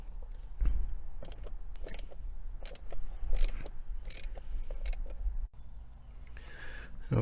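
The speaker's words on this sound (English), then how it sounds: "The first thing I'm going to do is start undoing these little nuts here." Small nuts being undone by hand on the gear lever trim of a TVR Cerbera, with scattered metallic clicks and ratcheting ticks in uneven bursts, close and moderately loud against a faint background.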